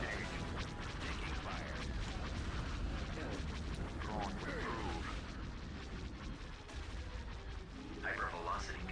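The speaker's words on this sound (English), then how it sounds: "Hypervelocity cannon firing" Hypervelocity cannon fire in Star Wars: Empire at War, Thrawn's Revenge mod, in a dense, loud wall of booming artillery-like blasts and crashes, continuous throughout with a game voice announcing over it.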